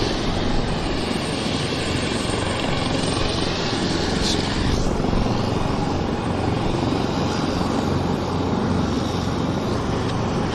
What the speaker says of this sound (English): Looks like a PC-12. No, it's a King Air Medevac.